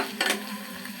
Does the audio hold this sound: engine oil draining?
no